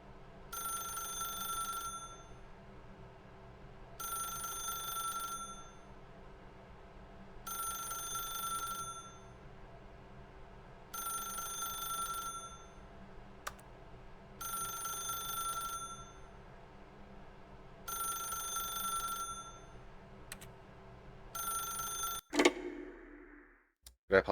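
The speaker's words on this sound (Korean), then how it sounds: "전화벨" A telephone bell rings in the video game The Stanley Parable, seven evenly spaced two-second bursts of bright electric ringing over a low hum, ending with a click as it is picked up.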